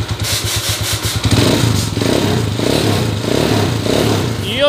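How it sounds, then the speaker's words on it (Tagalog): A repaired motorcycle, recently fixed for a timing gear problem, runs up close with a rhythmic idle from its engine and exhaust, then revs into a louder, sustained roar. "Pati tambutso, napakaganda ng kalugkog."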